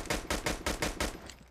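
A rapid burst of about six evenly spaced gunshots from an automatic weapon in the mobile shooter Call of Duty Mobile, loud and punchy, fading after the last shot.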